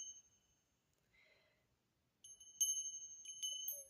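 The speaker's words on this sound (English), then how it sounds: "So one more little bell." A small bell rings clear, sustained high tones during an oracle reading, struck a few times in succession with bright overlapping shimmer, close and fairly quiet after a near-silent start.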